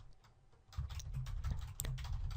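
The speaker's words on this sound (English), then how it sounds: "if I type anything here" Keys clicking on a computer keyboard while entering text into a notes app, a quick run of light taps over a low background hum, growing slightly busier partway through.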